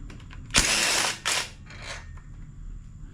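A calibrated impact driver tightens head bolts on a Briggs and Stratton engine of a Craftsman YTS3000 mower, giving a close, loud rattling burst, then a second shorter burst and a faint third.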